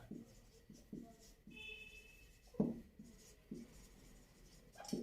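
A pen scratches across paper in short, quiet strokes while a math problem on interest rates is written out, with brief pauses between the faint, close strokes.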